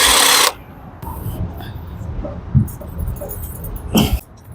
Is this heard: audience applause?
no